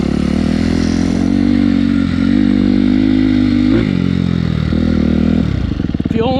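Suzuki RM-Z250 fuel-injected dirt bike engine idling and revving steadily up close, with a dip and a brief blip near the end as the throttle changes.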